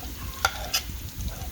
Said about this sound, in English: Now we add the curry powder, the masala and the jeera to the onion and garlic.